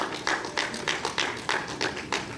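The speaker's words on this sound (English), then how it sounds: "let's also give them a round of applause" Applause from the audience for the students of OAU International School at a World Intellectual Property Day ceremony: a steady run of distinct, rhythmic clap bursts at an even pace, fairly close and with no talking over it.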